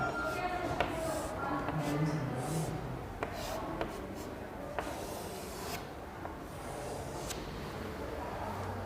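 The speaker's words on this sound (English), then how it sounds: "Then I am going with the circuit. I am drawing the same one." A pen scratching out a circuit diagram for an N-channel JFET on paper, soft rubbing strokes with small ticks repeating under a speaking voice, close and quiet.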